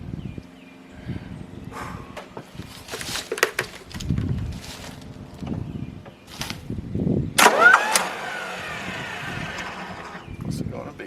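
An old sawmill power unit engine on a Frick sawmill cranks and turns over in several bursts, then catches with a louder surge and rough running, heard close outdoors with someone speaking briefly.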